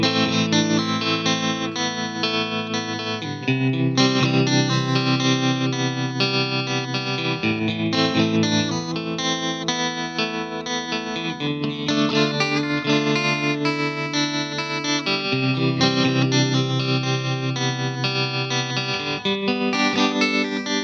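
An electric guitar plays chords and melodic lines through a Fender Mustang Micro headphone amp with heavy distortion and chorus effects, continuous and loud, with no voices.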